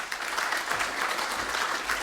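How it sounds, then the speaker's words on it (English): Steady applause from an audience at a conference session on artificial intelligence and Earth observation, a dense even wash of many hands clapping with no break, filling the room at moderate loudness. "Again, another round of applause."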